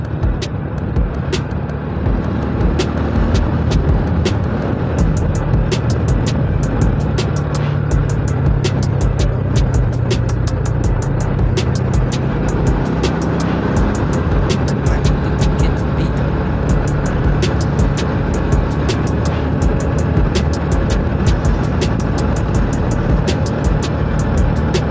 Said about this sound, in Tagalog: Ayan, nagsisimula na yung traffic, mga kasolid. Dumadami na sasakyan dito sa may parting sentro.